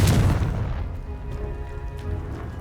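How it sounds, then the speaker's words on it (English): A Confringo spell explodes in Hogwarts Legacy with one heavy, loud boom right at the start that decays into a long low rumble, with faint tonal game music lingering underneath. "Confringo!"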